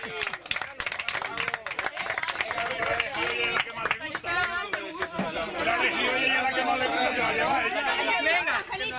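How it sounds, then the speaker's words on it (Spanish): At a greyhound race with dribbling in Noez, the crowd claps for the champions at a trophy ceremony, with scattered claps mixed into lively chatter and voices that carry throughout. "Un aplauso a los campeones."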